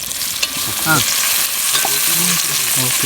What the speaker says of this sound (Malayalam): അപ്പം ആദ്യം മുളക് വറക്കാൻ വേണ്ടി നമ്മൾ എണ്ണ ഒഴിച്ചിട്ടുണ്ട്. അപ്പോൾ നമ്മുടെ മച്ചാൻ മുളക് ഇടാൻ പോവാണ്.